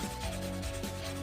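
An oxidized copper pot handle is scrubbed with an abrasive pad in a continuous rasping rub, close and steady, with rhythmic strokes across the short stretch and no talking.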